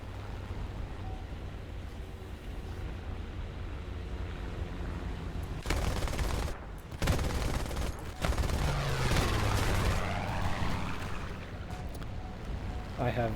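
Guns of a Bf-109 E3 fighter plane fire in the video game War Thunder over a constant engine drone. The bursts come in long rattling stretches and shift in tone as the plane manoeuvres.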